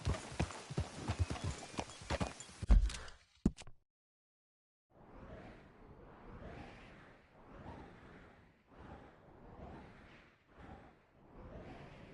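In the video game Red Dead Redemption II, a short burst of rustling activity, a pause, then rhythmic horse hoofbeats clip-clopping at a steady walking pace, fairly close.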